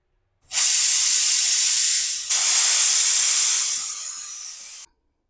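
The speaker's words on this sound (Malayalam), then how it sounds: "അപ്പോൾ കുക്കറിൻ്റെ ആവിയൊക്കെ പോയി കഴിഞ്ഞിട്ടുണ്ട് കേട്ടോ." A pressure cooker vents steam in a loud, close, steady hiss that starts abruptly, briefly dips, surges again and then tapers off before cutting out, with no voices.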